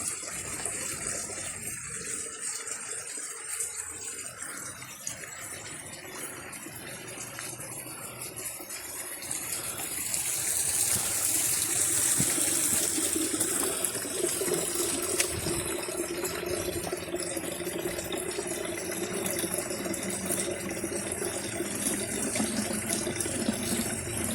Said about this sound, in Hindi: तो आइए पानी भरते हैं।